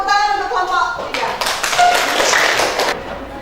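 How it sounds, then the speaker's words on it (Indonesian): A classroom group claps for group 3 in a short burst of hand claps that builds and then fades, with voices talking around it. "Oke, tepuk tangan untuk kelompok 3."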